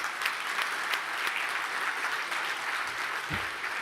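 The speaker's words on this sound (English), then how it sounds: "Can we give a round of applause?" A live audience applauds a volunteer coming up on stage at a sales storytelling event, a steady wash of many hands clapping at moderate volume throughout, without talk over it.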